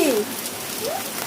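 Rain pours onto a parked bicycle outdoors, a dense continuous patter of drops, with a short voice heard at the very beginning.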